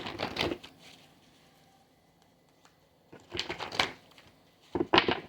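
Tarot cards being shuffled during a Libra reading, heard as bursts of papery riffling and crackle, one short burst at the start and two more toward the end, close and fairly quiet with near-silence between.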